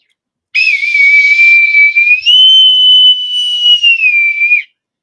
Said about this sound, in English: you can't start till you blow me in with the whistle there